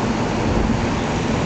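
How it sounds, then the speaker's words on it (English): Hard rain falling during a spring thunderstorm in southwest Oklahoma, a dense, loud, continuous roar of rainfall with no breaks. "Hard rain, too."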